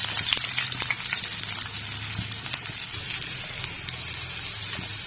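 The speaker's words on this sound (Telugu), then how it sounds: "అదే బాండీలో కాస్త 1/2 టీ స్పూన్ ఆయిల్ వేసుకొని ఉల్లిపాయలు వేసుకొని వేయించుకోవాలి." Onions fry in half a teaspoon of oil in a kadai, producing a steady close sizzle with scattered pops and spatters throughout.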